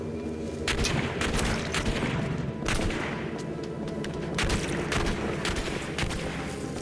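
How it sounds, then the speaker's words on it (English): Gunfire in the game Turning Point cracks through a brick wall as repeated sharp shots and heavier booms. The shots land at irregular intervals over a dense, loud battle din, with no talking. "those shots are coming from the brick wall. They're actually going through it."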